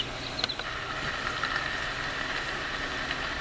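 Rain nature sound from a Sony ICF-C707 clock radio: a steady, dense broadband hiss of falling rain with faint scattered patters, played alone at an even level with no talking.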